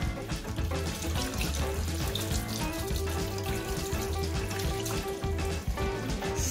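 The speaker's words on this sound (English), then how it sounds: "Rinse the mushrooms under cold water." Cold tap water runs steadily over mushrooms being rinsed in a kitchen sink, a continuous close splashing stream with music or kitchen background beneath it.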